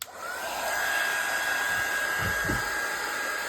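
A steady, close blowing hum of a heat tool drying paper, running continuously, with a faint high whine and a couple of soft low knocks.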